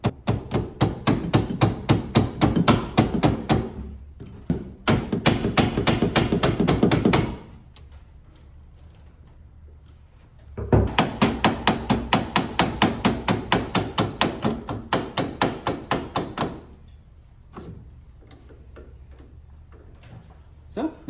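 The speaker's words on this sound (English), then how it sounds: "It's nice to have a little hammer, especially one with the plastic end, to kind of tap that off." Rapid, rhythmic taps of a plastic-faced hammer on a metal intermediate steering shaft in two long bursts, close and loud, separated by a quieter pause with a few scattered knocks.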